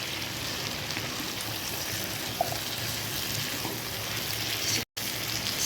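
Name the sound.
potato, fenugreek and soya chunk sabzi frying in a pan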